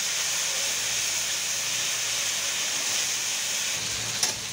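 Garlic and ginger paste frying in a pan, a steady bright hiss of oil sizzling without pause, ending with a brief click near the finish.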